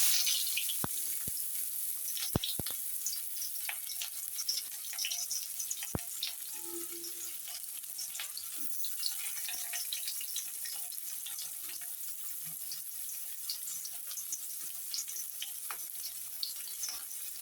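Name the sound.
chopped onion frying in potato-frying oil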